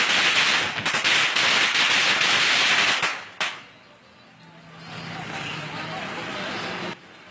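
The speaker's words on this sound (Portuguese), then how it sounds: "não é tiro não. É foguete, porque é comemoração" Celebratory fireworks and firecrackers go off in a loud, dense volley of rapid bangs for about three seconds, then cut out abruptly. Quieter background noise and a faint hum follow.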